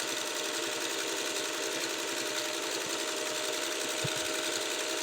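A fully serviced Singer 301A Slant-O-Matic sewing machine running continuously, a dense, steady mechanical whir and rapid needle clatter, close and loud with no talk.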